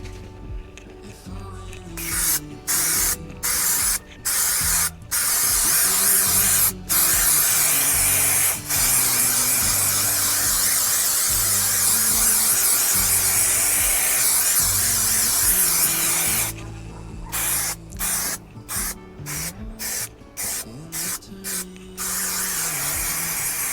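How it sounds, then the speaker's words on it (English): Aerosol spray adhesive hisses onto a campervan floor liner in a series of loud, close bursts, some short and some held for several seconds, with brief pauses between them. "just make a mark in the liner here so I know what I'm spraying"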